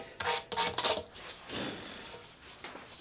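A wooden saw handle is sanded by hand, giving short scratchy rubbing strokes, a few quick passes and then a longer, softer one. The strokes are close and fairly quiet.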